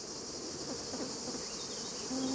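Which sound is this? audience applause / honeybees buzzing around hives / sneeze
honeybees buzzing around hives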